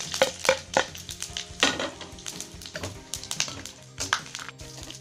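Cumin seeds and bay leaf crackling in hot ghee for a spiced khichdi, a busy sizzle broken by frequent sharp pops, spatters and light clinks of a spoon against the pan, no talking.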